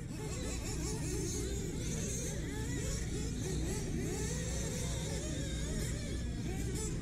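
Nitro-powered RC truggy engines at a dirt track raceway in an A-main race, a steady high buzzing whine with rising and falling revs as cars race down the straightaway, continuous and fairly loud throughout.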